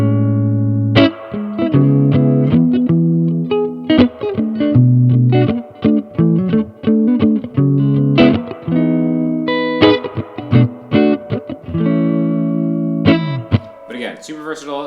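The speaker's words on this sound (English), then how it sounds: "I like a healthy amount of reverb." An electric guitar played through a Supro Amulet tube amp with the reverb turned up heavily, ringing chords and single notes that sustain and wash into a long spacious tail, loud and close, with no talking.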